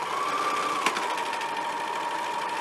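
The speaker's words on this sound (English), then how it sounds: "the first thing I'm going to do is serge the raw edge of the hemline" A serger overlocks the raw edge of a knit blouse hem, a steady high whirring drone running nearly three seconds with one brief sharp tick partway through, close and alone.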